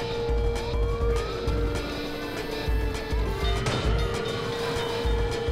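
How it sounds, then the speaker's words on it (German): A police SUV siren wails in a car chase in the video game Watch Dogs, loud and close, its rising and falling tone sweeping over a heavy rumbling engine and road noise throughout. "Ein Polizei-SUV hat die Verfolgung aufgenommen"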